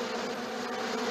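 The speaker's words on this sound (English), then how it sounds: "Now we're just waiting for the bees." Cartoon-style bee swarm buzzing, a steady droning hum that holds at even loudness throughout, close and continuous with no voices.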